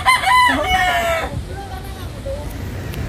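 A rooster crows loudly and close by in one long call that rises and trails off, followed by softer clucking and faint background voices.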